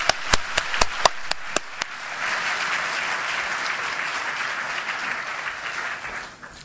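An audience at the St. Gallen Wings of Excellence award ceremony opens with several sharp, separate claps. These quickly swell into dense, steady applause that holds for several seconds and then fades out near the end.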